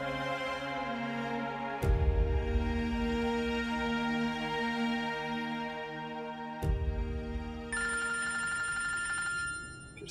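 A telephone rings loudly in repeated long trills, with clear bursts separated by brief pauses and no voices.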